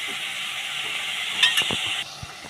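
Chicken patty filling sizzles and hisses steadily in a frying pan, loud and close. A brief stir or scrape comes midway, then the frying quiets to a lower hiss near the end.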